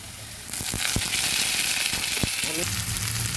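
A burst of loud frying sizzle starts suddenly as chopped green chillies are added to frying onions, continuing steadily with a few scraping stirs and a brief murmur of voice.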